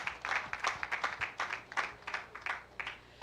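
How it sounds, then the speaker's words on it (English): A conference audience applauds, with steady rhythmic clapping that sounds somewhat distant and moderately faint and continues throughout. "Please keep the applause rolling."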